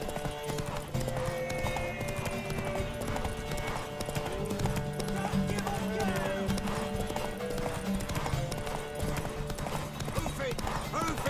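Horse hooves clop in a steady galloping rhythm during a horse race in The Witcher 3 video game, continuous and fairly close, with voices and background game sound layered over the hoofbeats.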